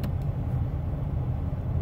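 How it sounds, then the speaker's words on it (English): A car engine idles steadily as a low, quiet rumble with no other sounds; the car has a head gasket fix and a service engine light on. "the car's on right now, so you guys can see"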